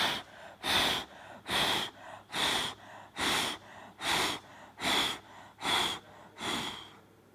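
Slow, steady breaths during a yoga exercise for obesity, with nine or ten long rhythmic whooshing exhalations and inhalations evenly spaced, close and fairly loud, with no talking.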